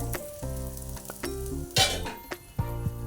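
Paddu batter cooking on low flame in a paddu pan, a steady sizzle broken by metal clinks and scraping of a utensil against the pan.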